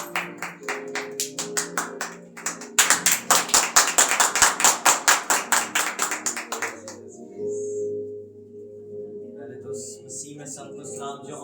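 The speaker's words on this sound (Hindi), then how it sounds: "जोरदार तालियां बजाओ" Church congregation claps loudly in a fast, steady rhythm during a Hindi Christian sermon, sharp rapid claps filling several seconds before fading into a quieter passage with a voice and sustained tone.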